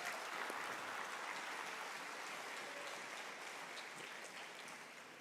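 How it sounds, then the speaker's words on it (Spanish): Applause from a church congregation during a Spanish-language service, a steady, distant wash of clapping that holds evenly and tapers slightly toward the end. "Hoy sí, dele un aplauso a Jesús."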